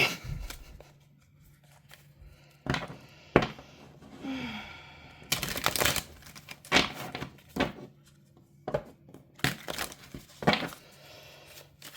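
Tarot cards are shuffled by hand in stiff, uneven bursts of riffling and flapping, close and fairly loud, with short pauses between the bursts.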